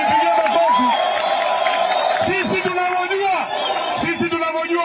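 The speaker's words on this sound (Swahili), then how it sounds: "Mujipigie makofi." A crowd at a political rally in Kondele, Kisumu claps and cheers as a loud babble under a man's amplified speech, with the noise rising and falling throughout.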